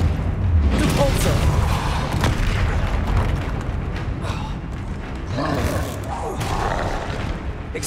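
The Depulsa spell cast during a troll fight in Hogwarts Legacy comes as a run of heavy booming blasts and crackling bursts, loud and close, overlapping one another across the stretch.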